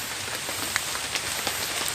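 Light drizzle pattering steadily on surfaces outdoors at a fishing spot, a soft continuous hiss with occasional faint drop ticks and no talking.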